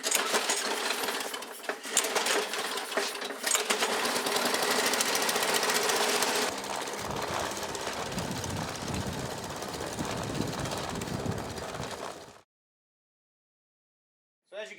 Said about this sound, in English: the water running lawnmower works really well